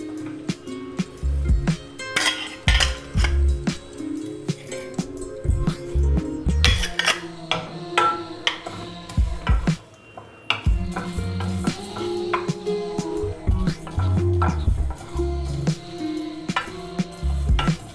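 A spatula clatters and scrapes against a pan as black pepper, coriander seeds, cumin and fennel are stirred and dry roasted for a mushroom pepper fry masala, giving repeated close metallic clinks and scrapes with no talking.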